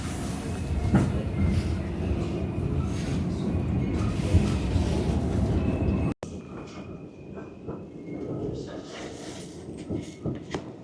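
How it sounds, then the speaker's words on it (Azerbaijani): New York subway train rumbling loudly with rattling cars and clattering wheels, cut abruptly midway, then a quieter rolling rumble with scattered clanks and a voice speaking underneath. "New York metrosunda"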